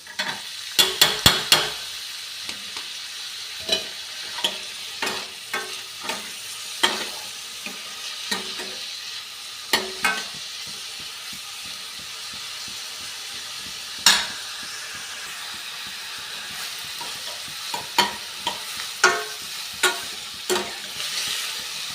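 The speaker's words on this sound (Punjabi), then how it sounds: "ਸਾਰੇ ਮਸਾਲੇ ਨੂੰ ਬਰਾਊਨ ਜਿਹਾ ਕਰ ਲਾਂਗੇ" Onion, garlic, ginger and spice masala fry in a pan, a constant soft sizzle broken by frequent sharp scrapes and clanks of stirring, close and with no talking.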